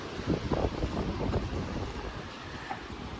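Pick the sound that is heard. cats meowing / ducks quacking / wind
wind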